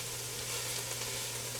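Sausage frying in olive oil in a pan for jambalaya, giving a steady, dense sizzle that stays loud and close from start to finish, with no voices over it.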